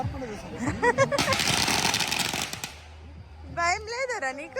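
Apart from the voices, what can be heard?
Diwali firecrackers bursting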